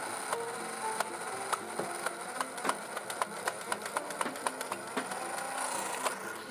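A Nerf blaster fires foam darts in a rapid, regular series of sharp clicks and thumps, about a dozen shots, fairly faint and close, with no talk.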